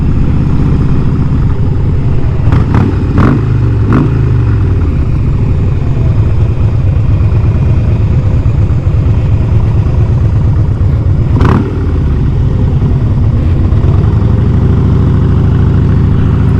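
A Harley-Davidson motorcycle engine rumbles steadily, recorded close by. Its low drone runs throughout, with a few brief rising whines from shifting.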